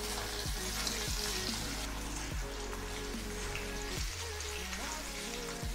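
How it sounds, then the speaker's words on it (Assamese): Carrots fry in a pan for a dal dish, giving a continuous close sizzle and crackle with a low rumbling hiss underneath. "মই গাজৰখিনি অলপ ফ্ৰাই হ'বলৈ দিম।"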